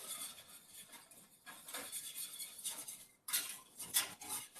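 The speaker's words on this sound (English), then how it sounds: "we can turn up to like medium-low heat and start whisking" Sauce whisked in a pan over medium-low heat, with quick, repeated soft metallic scraping and tapping in irregular bursts, faint and close, with no talking.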